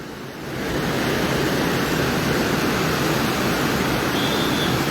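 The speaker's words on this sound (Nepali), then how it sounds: "यताबाट जाने पानीको बहाव र उताबाट आउने मर्स्याङ्दीको पानीको बहाव चाहिँ जुधेर" A flooded Trishuli river at Mugling, where it meets the Marsyangdi, roars as a loud, continuous broadband rush of turbulent water close by.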